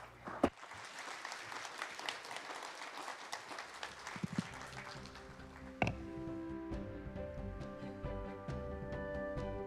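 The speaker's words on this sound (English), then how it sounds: "Let's give a big round of applause." An auditorium audience at a biotechnology forum applauding, starting faint and scattered with a few sharp claps, then settling into steady, even clapping that holds to the end.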